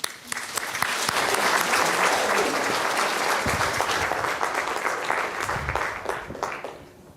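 A conference audience applauds as a speaker is welcomed at a reading conference: sustained, dense clapping from a large room, swelling quickly and tapering off after about seven seconds.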